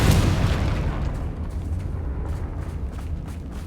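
A Confringo fire spell explodes in the Hogwarts Legacy video game, one loud deep boom at the start that trails into a low, steady rumble of battle ambience.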